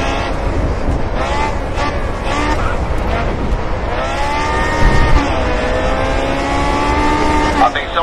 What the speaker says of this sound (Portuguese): Vou dar uma aumentada no som do carro.